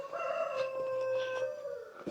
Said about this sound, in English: You'll be able to hear those roosters.